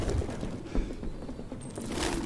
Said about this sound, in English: who the fuck collects pigeons?